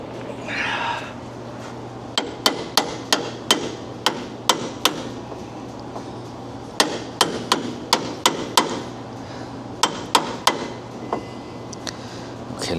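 A hammer strikes a Freightliner Cascadia steering box in sharp metallic blows, some in quick bursts of several hits and others spaced apart, ringing close and loud over a steady low hum.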